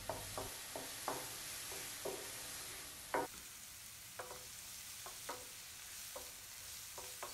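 Chopped mushrooms cook in melted butter in a pan, giving a steady sizzle with repeated scraping stirs at an uneven rhythm, heard close and alone.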